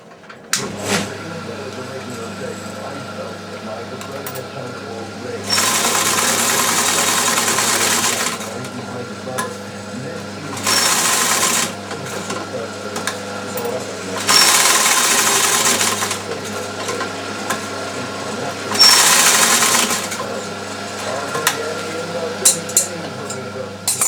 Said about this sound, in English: this is my main sewing machine where I do most of the work